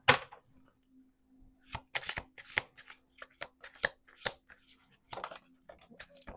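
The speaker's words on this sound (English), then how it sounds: "We're going to do 2 more shuffles." Tarot deck being shuffled by hand, a series of quick crisp riffles and card slaps in irregular bursts, close and clear with a faint steady hum underneath and no talking.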